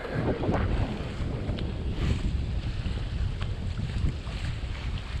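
Wind buffets the microphone steadily aboard a sailboat under sail with its engine off, heading out from St Lucia toward Martinique, while water rushes and splashes along the hull in a constant loud wash.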